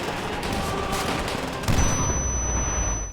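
Grenade explosions and rapid gunfire in the shooter World at War, a loud continuous barrage of blasts and shots with a heavier thump partway through, close and unbroken until a quick fade.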